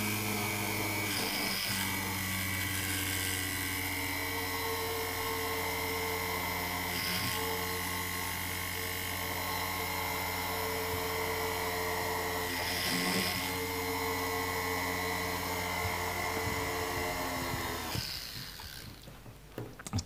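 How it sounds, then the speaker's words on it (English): A ball burr in a drill grinds steadily into a piece of sea glass, giving a continuous high-pitched buzzing whine that holds for most of the stretch before cutting off near the end, with faint voices in the background. "my drill exactly, my ball burr exactly where it needs to go"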